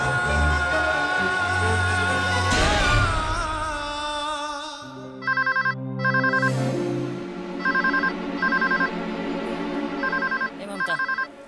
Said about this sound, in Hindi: देखा केकर फोन बा